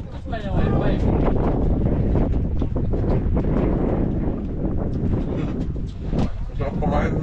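Strong wind buffets the microphone aboard an outdoor wooden boat frame under construction, a steady loud rumble with gusts running through the whole stretch while people talk alongside.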